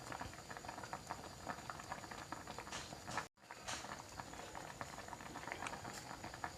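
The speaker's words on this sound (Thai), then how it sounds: "ต้มส้มปลารวม มีปลาตาเดียว มี ปลาเห็ดโคนอุ้ยหลายอย่าง อยู่ในหม้อเดียวเนี่ย" Mixed-fish sour soup with several kinds of fish and mushrooms bubbles steadily in one pot, a dense continuous boiling with crackly patter throughout, close and fairly loud, broken only by a split-second gap.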